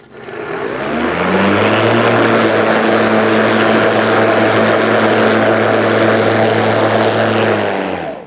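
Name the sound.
Ryobi 36V brushless lawn mower cutting thick Kikuyu grass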